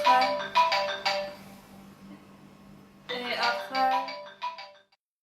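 A mobile phone ringtone goes off during an interview, playing short melodic phrases in two bursts separated by a quieter pause, fairly close and clear.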